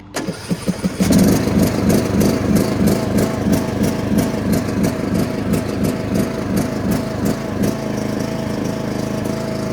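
A John Deere D100 ride-on lawn mower, just after an oil change, cranks in a few quick bursts and then catches, its engine settling into a loud, steady, slightly uneven close-up idle with rhythmic pulsing.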